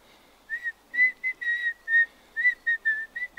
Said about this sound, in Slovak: Asi vypískuje, no pískaj.